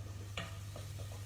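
Onions frying in a pan turned up a little too high, a faint, steady sizzle with a low hum underneath and a few soft stirring clatters, no voices.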